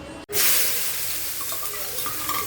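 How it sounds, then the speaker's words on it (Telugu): Chopped onions and cumin dropped into hot oil for kaju curry, a sudden loud burst of sizzling that settles into a steady close crackle with faint stirring. "ఫస్ట్ బాగా తరిగి పెట్టుకున్న ఆనియన్స్ వేసుకోవాలి."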